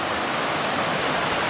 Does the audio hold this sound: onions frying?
no